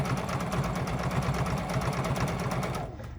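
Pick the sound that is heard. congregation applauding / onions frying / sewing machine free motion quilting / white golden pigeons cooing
sewing machine free motion quilting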